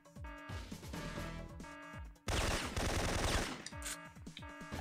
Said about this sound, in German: Ich schieße nicht auf Raketen. Ich schieße auf Gegner.